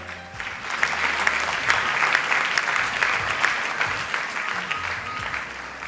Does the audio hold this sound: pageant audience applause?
yes